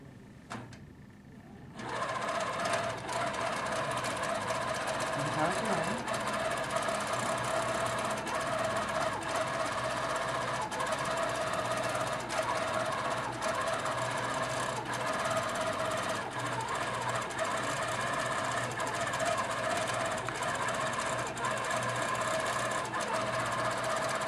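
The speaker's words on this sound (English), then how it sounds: "I can just click on start quilting." An HQ Pro-Stitcher computerized quilting machine starts up and stitches continuously, a steady close mechanical hum with a fast repetitive needle chatter that holds even for the whole stretch.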